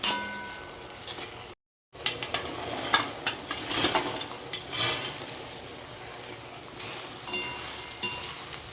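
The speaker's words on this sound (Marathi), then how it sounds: "आता छानपैकी हलवून घ्यायचं याला मस्त।" Restaurant-style chilli paneer in sauce is stirred together with fried soybeans in a pan. A soft sizzle runs under spoon scrapes and metallic clinks, with a brief dropout early on.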